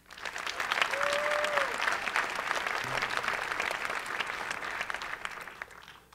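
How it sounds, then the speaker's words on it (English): Audience at the 2010 Vimeo Awards ceremony giving a sustained round of applause, a full, steady wash of clapping from a large crowd that swells quickly and tapers off at the end. "Please give yourselves a round of applause."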